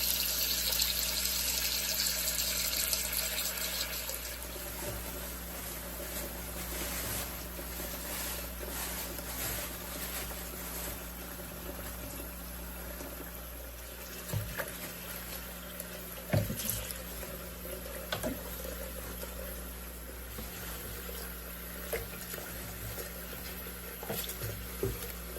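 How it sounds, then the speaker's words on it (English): Cold tap water running into a cleaned kitchen sink to rinse freshly harvested carrots, a steady splashing stream that is louder at the start and then settles as the basin fills, with occasional clinks and knocks. "I want to fill it with cold water because I want to rinse off the dirt."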